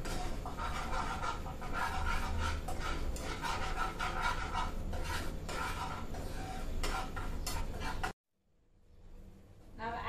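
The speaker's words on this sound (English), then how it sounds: "On medium flame, cook the gram flour and whisk it properly." A whisk scrapes and stirs gram flour cooking in a pan over a medium flame, making a steady, busy rhythmic scraping close by that cuts off abruptly near the end.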